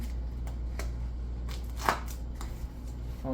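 Sports tape being wrapped around a heavy Amtgard foam thrown weapon, with quiet rhythmic rips and crackles of tape peeling off the roll over a low steady hum.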